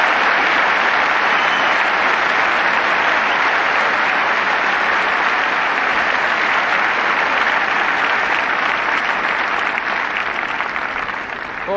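A crowd applauds at a 1985 Wimbledon tennis match between Boris Becker and Joakim Nystrom, in a dense, sustained wash of clapping that holds steady for about twelve seconds before easing slightly at the end.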